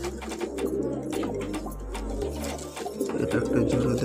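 Pigeons coo repeatedly in low, throaty rolls, close and steady over a pigeon pair being mated, with someone talking throughout.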